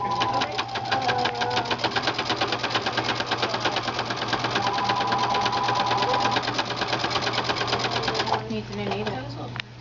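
A sewing machine stitches a fat quarter skirt along folded fabric, a fast steady mechanical rattle running close and loud for most of the clip before slowing and stopping near the end.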